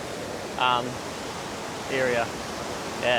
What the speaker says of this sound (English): into this actual waterfall